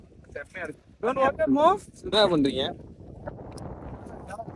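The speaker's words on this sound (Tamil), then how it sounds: "சரியான காத்து." Strong wind blows outdoors as broadband rushing noise, rising into a steady roar after people finish talking.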